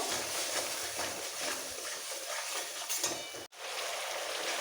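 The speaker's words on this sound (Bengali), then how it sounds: "সামান্য একটু চিনি নিরামিষ রান্নায় ব্যাপক লাগে ভালো করে একটু কষাবো" Spices being stir-fried for a papaya and potato curry give a soft, steady sizzle with faint stirring, broken by one brief silent gap near the end.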